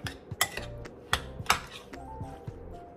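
A spoon stirs a mixture in a bowl while cooking tilapia at home, giving scattered light clinks and scrapes against the bowl at an uneven pace, quiet and close.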